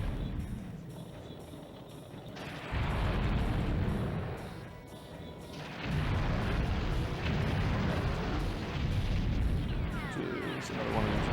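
A tank in the video game BattleTanx: Global Assault drives over mines, setting off heavy, rumbling explosion bursts that swell and fade in loud waves, with continuous game noise between them.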